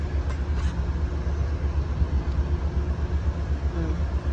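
An Amtrak Lake Shore Limited train approaches on the track in a rail yard, giving a steady low rumble that holds at an even level throughout.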